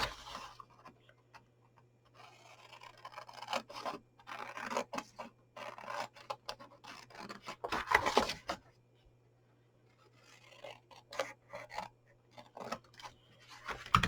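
Scissors cutting straight across material for a handmade gift wallet, a series of close crisp snips and scraping cuts in bursts with pauses between, no talk.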